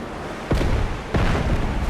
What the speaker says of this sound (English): Ooh, fireworks.